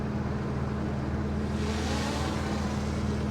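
A 1976 StarCraft boat's Mercruiser 120hp engine runs at low speed around 5 mph, giving a steady, moderately quiet motor drone with rushing water and wind noise and no voices.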